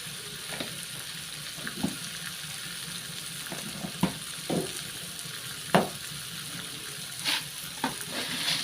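Spices and chili powder frying in a pan for a grated-coconut palya, with a steady low sizzle broken by soft irregular stirring scrapes and light clinks at close range, no talking.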